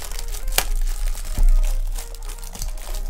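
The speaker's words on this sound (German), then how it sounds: "Reißen wir das Ganze hier also mal auf." Packets of FC Bayern München 19/20 stickers being torn open by hand, with sharp crinkling and ripping foil bursts in quick succession, close up.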